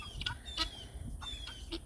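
Guinea fowl calling at night in a barnyard, a few quick, faint chattering squawks repeating in short bursts from nearby birds.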